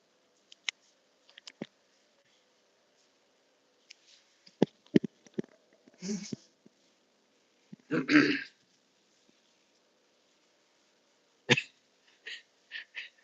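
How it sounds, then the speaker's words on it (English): A person clears their throat several times in short, scattered bursts, with a few louder rasping throat sounds near the middle and end, close to the microphone, in a quiet room. "I hate clearing my throat on stream"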